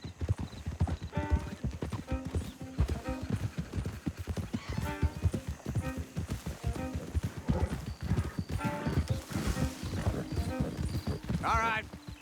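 Horse hooves clip-clop steadily in Red Dead Redemption 2, a continuous rhythmic trot on hard ground with a brief whinny near the end, mixed with game ambience.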